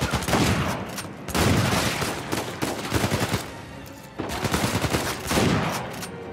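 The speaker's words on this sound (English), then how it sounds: "Oh, that's a good shotgun." Shotgun blasts and heavy gunfire in the action game Uncharted 4, loud repeated bursts of booming shots in several clusters with brief pauses between them.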